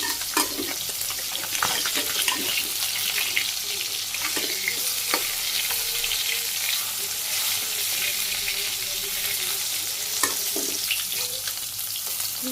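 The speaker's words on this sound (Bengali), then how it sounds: "এই যে বাকি কুটি মাছগুলো এগুলো ভাজি করে সরাসরি তরকারিতে দিয়ে নিই" Small fish frying in hot oil in a pan for a Bangladeshi curry, a steady close sizzle with occasional sharp crackles and spatula scrapes throughout.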